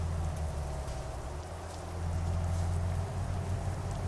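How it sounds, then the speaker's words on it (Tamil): Steady rain in the Euro Truck Simulator 2 video game, a constant hiss of falling drops heard from inside a truck over a low, continuous engine drone, with no talking. "மழை வேற பெய்யுது."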